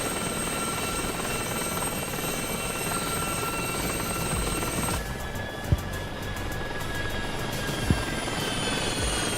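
A Gazelle helicopter flies in a helicopter racing video game, a steady rotor and engine drone that shifts pitch midway, with a couple of brief sharp knocks toward the end.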